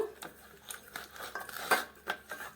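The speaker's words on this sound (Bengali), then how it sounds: "এটাকে এইভাবে মেখে নেব" Fish is mixed by hand with spices, salt and raw mustard oil in a bowl, producing quick, close clinks and squelchy rubbing in an irregular rhythm.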